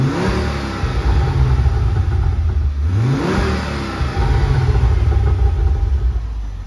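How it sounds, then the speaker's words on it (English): A Ford Focus ST3's 2.5-litre five-cylinder engine with standard exhaust idles with a deep rumble, then its revs rise sharply in two quick throttle blips before settling back to a steady idle, close and loud. "I'll give you a little blip on the throttle just to see as you standard exhaust."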